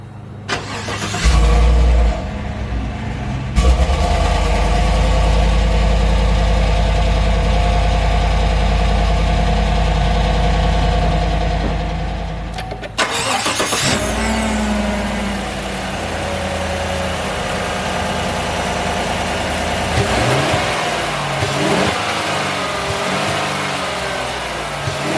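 GMC Sierra/Silverado pickup truck (2014-2020) fitted with an S&B cold air intake starts up, then settles into a steady, close idle with a deep low rumble, no voices.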